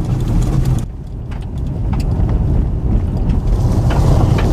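A car drives on a desert road with a loud, steady roar of tyres, engine and wind buffeting the microphone, continuous throughout and briefly easing near the start.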